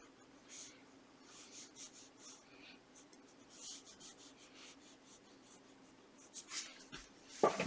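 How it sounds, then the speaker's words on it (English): Soft scratchy strokes of a pencil drawn on its side shading across paper, in short repeated bursts, quiet and close, ending with a brief louder rustle. "you draw with the side of the pencil and then turn the pencil"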